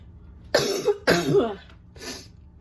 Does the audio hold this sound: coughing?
yes